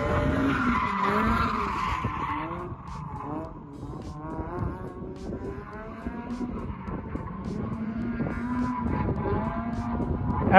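Toyota AE86 fitted with a 3S-GE engine, running on track: the engine revs high and rises and falls in pitch through shifts while the tyres screech and skid loudly and continuously.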